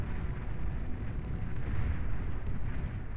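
Shell Shocker artillery in the strategy game Beyond All Reason lays down a barrage, producing a steady, dense low rumble of overlapping distant explosions with no pauses.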